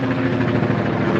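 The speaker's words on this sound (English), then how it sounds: "there's a helicopter right now" A helicopter passes overhead, giving a loud, continuous rotor thrum and engine rumble that fills the short stretch without pause.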